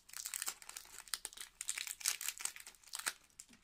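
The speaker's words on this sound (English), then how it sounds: "Okay, so cut a strip of tape, pop it through the ring," A strip of sellotape being pulled and cut nearby, a fast quiet run of crinkly plastic rustles and small tearing crackles over a few seconds, no voices.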